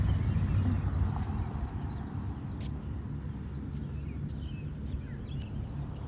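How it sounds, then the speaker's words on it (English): A tractor rolls past near a school parking lot as a faint, distant low rumble. It swells briefly at the start, then eases into a soft, steady drone mixed with wind. "Just wondering what was going by. Is a tractor of some sort."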